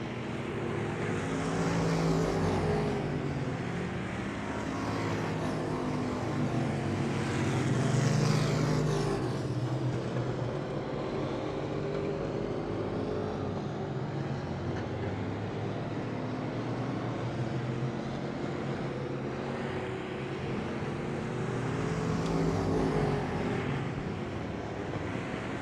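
Street stock race cars roar around the PIR oval in a Top Dog Street Stock Series race, a dense, continuous engine drone that swells and fades as the pack passes, heard from a distance with no talk over it.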